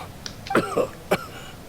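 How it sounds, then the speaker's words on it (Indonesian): Coughing from a character in the Genshin Impact video game, a couple of short, close throat-clearing coughs heard alone. "batuk-batuk"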